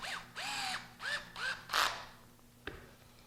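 Metal hinge pin being threaded into a Pro-Line ProTrac RC car rear suspension arm: a few short creaking, ratcheting twists in quick succession, then a single sharp click, close and alone.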